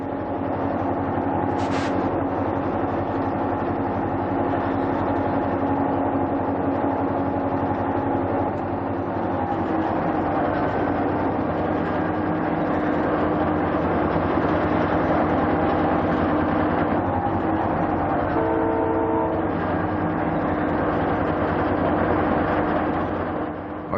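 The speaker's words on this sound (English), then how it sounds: "We're near the top of the climb out of Denver, with just a few less curves in the track." A diesel train labours near the top of the climb out of Denver on curving track, a steady low engine drone with sustained tonal hum and a brief high squeal early on, running continuously without talk.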